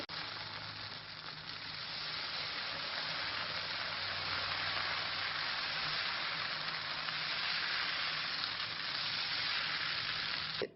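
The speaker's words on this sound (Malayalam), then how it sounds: "ഇതുപോലെ മുഴുവൻ ദോശയും ചുട്ടെടുക്കണം." Dosa frying on an oiled pan gives a steady, even sizzle that holds close and loud the whole way through, with no talking.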